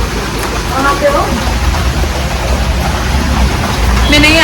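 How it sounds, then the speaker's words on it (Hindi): Heavy rain pours down during a storm in Gurgaon, a loud, continuous hissing roar of water hitting surfaces, with brief voices faintly audible beneath it. "बहुत तेज़ तेज़ यहाँ बारिश होने लगी"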